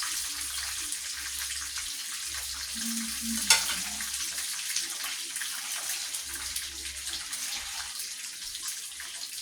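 Breaded milkfish (bangus) fries in hot oil, giving a steady bubbling hiss with faint crackles and one brief clink of a utensil near the pan.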